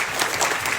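An audience at a 50th anniversary celebration in London breaks into applause, a short dense burst of clapping with no voices over it.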